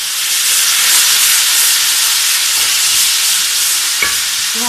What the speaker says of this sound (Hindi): इसके बाद हम इसमें लहसुन अदरक शामिल करेंगे